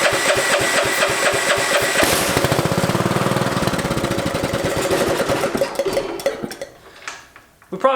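A small homemade car engine runs loud and close with a rapid, rough chugging rhythm, sputtering and fading toward the end before a final knock.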